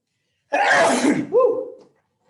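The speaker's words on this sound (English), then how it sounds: "I'm going to sneeze." A single loud, close sneeze bursts out, followed by a short voiced tail, then silence.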